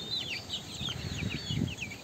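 Young free-range chickens, pullets, cockerels and chicks cluck and peep at late-afternoon feeding time on a farm, soft overlapping calls from several birds with a busy, continuous low murmur.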